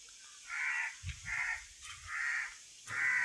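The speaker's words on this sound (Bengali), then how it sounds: "কাক ডাকতেছে কাকা।" Crows caw four times in an even rhythm outdoors in rural Bangladesh on a cloudy day, moderately close and clear, with no talking.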